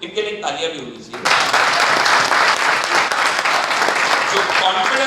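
Audience applause in a seminar or meeting hall breaks out suddenly after a short stretch of talking and then continues steadily, loud and dense, to the end.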